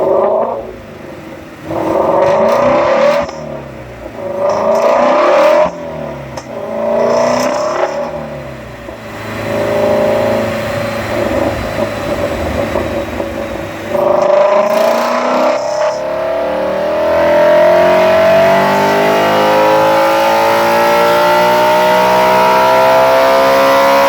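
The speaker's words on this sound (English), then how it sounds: "I'm going to roll a clip here of a Shelby GT350 that went on the dyno right after I did" A Shelby GT350 with a resonator delete and cold air intake revs on a dyno, loud engine bursts rising and falling several times before a long sustained climbing wail, no voices.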